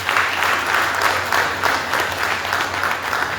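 Steady, loud audience applause fills a university event hall, a dense continuous patter of many hands clapping without a break.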